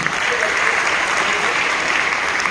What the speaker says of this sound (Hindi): मैं चाहूंगा एक बार आप सभी लोगों के लिए तालियां होनी चाहिए